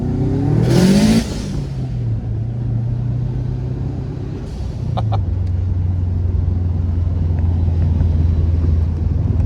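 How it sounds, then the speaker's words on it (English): Tuned Subaru WRX STI (bugeye) accelerating hard in first gear, a loud close engine roar rising in pitch, then a brief drop and a steady droning pull with turbo whoosh and external wastegate chatter. "it gives you the nice whoosh. And then you get external wastegate noise."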